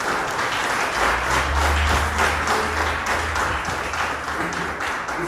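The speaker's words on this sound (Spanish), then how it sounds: "denle un aplauso al Señor" A church congregation breaks into sustained applause during a Spanish-language sermon, many hands clapping together in a dense, even roar that swells and then slowly tapers.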